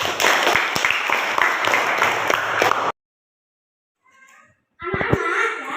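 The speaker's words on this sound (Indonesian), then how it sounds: "Tepuk tangan untuk kelompok 1." Classroom applause for a student group: loud, close clapping from many children for about three seconds, then a near-silent gap with a brief faint murmur, before clapping and children's voices resume.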